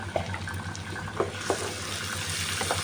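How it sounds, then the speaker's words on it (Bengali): Onions fry with salt and turmeric in a pan, giving a steady close sizzle with a few light scrapes or stirs cutting through the constant crackle. "ভালো করে পেঁয়াজটা নিয়ে লবণ হলুদ দিয়ে ভাজা ভাজা করব।"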